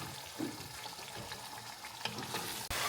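Masala sizzles in a pan while it cooks for mutton biryani. The frying is quiet and close, with a continuous crackle, occasional stirring scrapes and a brief clunk near the end. No one speaks.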